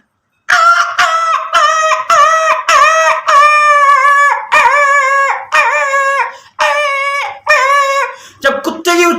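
A voice imitates a small injured dog, with a loud, close series of sharp, whining yelps and cries, repeated in quick bursts with brief gaps between them.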